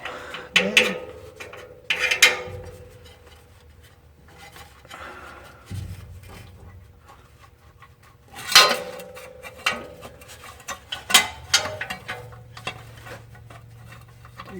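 Bolts and the transmission inspection plate come off a Ford Super Duty with a V10 and 4R100 transmission, worked with a wrench: scattered metallic clinks, taps and scrapes, some sharp and close, with quiet gaps between them.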